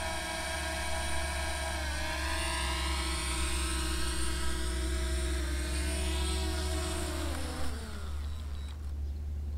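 A camera drone lands, its steady multi-rotor whine holding level and close, then the pitch sweeps downward near the end as the motors spin down on touchdown.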